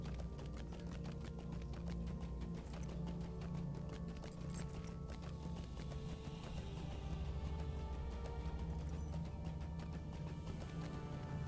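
Steady clip-clopping of a horse's hooves in the online game Lord of the Rings Online, a continuous, even trotting rhythm over a low ambient bed.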